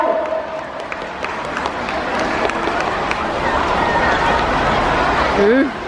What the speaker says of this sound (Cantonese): 我哋大力啲嘅掌聲去為佢哋加油